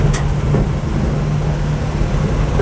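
A 1951 Chevy budget rat truck in second gear gives a steady low engine drone with a constant hum and rumbling road noise, heard from inside the cab.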